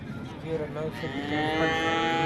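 A cow moos close by at a livestock market in Modnimb, a long drawn-out low call that rises and holds, with faint voices in the background.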